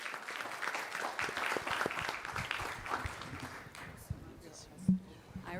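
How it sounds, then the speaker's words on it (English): Audience applause for conference panelists at a founders business event in Dubai, a dense steady patter of clapping from a large crowd that thins toward the end, with a thump near the close. "So big applause for our great panelists."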